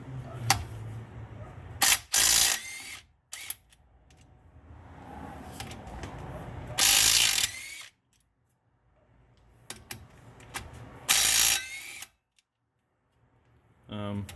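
Ratchet cranking out flywheel bolts on an LSX Camaro during a clutch job, with repeated bursts of rapid clicking separated by pauses, close up, with people talking in between.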